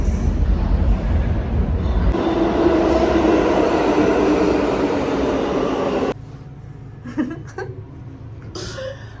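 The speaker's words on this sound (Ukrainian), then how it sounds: "О, потяг їде." A New York subway train rumbles and roars nearby, building to a loud sustained rush, then cutting off abruptly to quieter station ambience with a few clanks.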